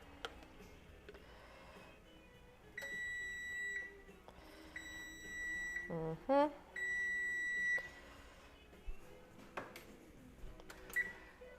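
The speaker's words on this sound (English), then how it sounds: "Timer." A kitchen timer during Thanksgiving cooking prep sounds several groups of electronic beeps, with clicks and faint kitchen clatter between them at low overall volume.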